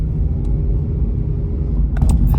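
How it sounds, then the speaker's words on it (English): A FedEx delivery truck rumbles low and steady nearby, with a brief higher clatter near the end. "Okay, FedEx truck, what are you doing?"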